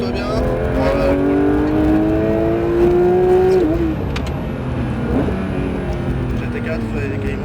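A Porsche 911 992 GT3 brakes hard on a race circuit, its loud engine note holding high, then dropping away as it slows, heard from inside the car under steady talking.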